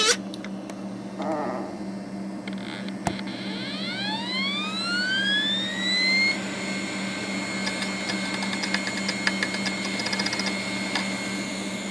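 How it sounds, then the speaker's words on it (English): An Iomega Jaz drive spinning up: a click and whir, then a rising whine that sweeps upward over a few seconds and settles into a steady high-pitched spin, close and clear. "we can listen to the lovely noise of it spinning up"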